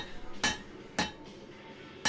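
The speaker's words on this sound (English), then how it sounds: "here I'm using the cross peen on the hammer, and I'm trying to draw it out, make it a little bit wider" A cross peen hammer strikes hot steel on an anvil while a borax spoon is drawn out wider; three sharp, ringing metallic blows land about half a second to a second apart, loud and close, with faint shop noise between.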